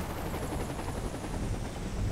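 Helicopter in Saints Row the Third hovering low over a narrow ledge near water, a steady, loud rotor drone holding constant throughout with no talk.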